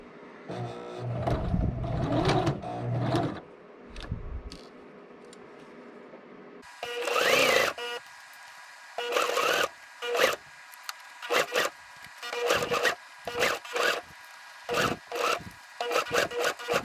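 A domestic sewing machine stitches double fold bias tape for a slot seam binding, running in short bursts of motor whir and needle chatter with pauses between, fairly close and moderately loud with no talking.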